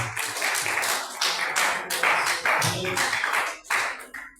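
A church congregation at a worship service claps to welcome the preacher, with dense, steady applause filling the whole span alongside some voices.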